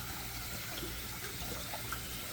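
Celery being swished and agitated in a water-filled kitchen sink, a continuous wash of running and sloshing water, steady and fairly close with no talking.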